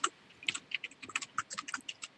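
Code is typed on a computer keyboard in quick, light, irregular keystrokes, close and fairly quiet with no voice.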